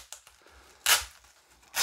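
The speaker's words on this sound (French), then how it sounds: "Je me bats avec le scotch, c'est génial." Adhesive tape is ripped and torn in two sharp, noisy bursts, with quieter crinkling and handling sounds in between, close by.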